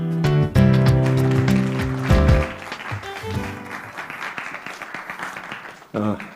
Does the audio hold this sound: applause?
yes